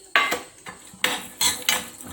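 Peanuts and chana dal roasting in a little oil in a pan, stirred with a metal spoon: several sharp scraping, clattering strokes of cutlery against the pan, close up, with no talking.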